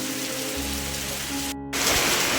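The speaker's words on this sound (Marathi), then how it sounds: "फक्त पाऊस सुसाट पडायला लागला आहे" A downpour drums steadily in a rural outdoor setting, close and continuous, with a brief dropout before the rain's hiss resumes slightly louder.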